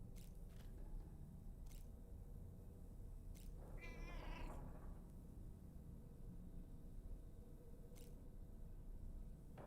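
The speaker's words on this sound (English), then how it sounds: "I hear a cat" A cat lets out a single clear meow in an indoor room, brief and fairly close, over a steady low background hum.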